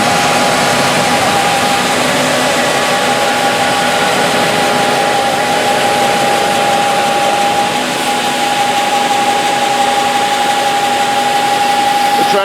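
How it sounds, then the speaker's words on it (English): Kinsey 1100 grain cart, a 1,000-bushel cart driven by a tractor PTO, unloading corn into a semi-truck: a steady, loud mechanical drone with a constant whine, running unbroken throughout. "Here we can see the Kinsey 1100 grain cart as it unloads corn into the semi-truck."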